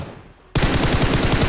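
A burst of automatic gunfire from PUBG Mobile snaps in abruptly after a quiet moment, firing rapid rhythmic shots that stay loud and close until the end.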